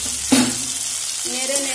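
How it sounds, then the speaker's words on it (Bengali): Fried potatoes being stirred together with eggplant in a pan, a short scrape and clatter of the spatula over a soft, steady sizzle, with a second stir near the end. "যে আলুগুলো ভেজে রেখেছিলাম সেটা মিশিয়ে দেব এখানে বেগুনের সাথে"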